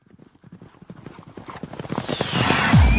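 Horses trot at a horse race ground, their hooves clip-clopping in a steady rhythm that grows louder as they approach, with a whinny near the end.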